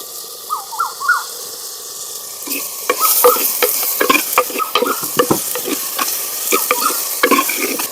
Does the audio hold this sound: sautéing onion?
yes